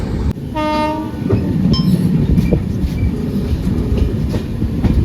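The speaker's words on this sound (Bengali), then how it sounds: "ওয়াপ 7 লোকোমোটিভের সাথে আসে অবোধ আসাম এক্সপ্রেস।" Avadh Assam Express hauled by a WAP-7 electric locomotive passes close by, opening with a loud horn blast that gives way to a steady roar of wheels and rolling coaches.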